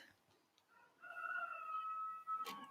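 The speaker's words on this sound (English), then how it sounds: "Can you hear my rooster?" A rooster crows once from a distance outdoors, a rising then sustained call lasting about a second and a half, faint and alone in a quiet setting with a brief clatter near the end.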